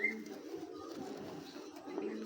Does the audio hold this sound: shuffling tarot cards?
no